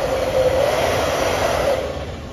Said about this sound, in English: I'm just blow drying it with the hairdryer.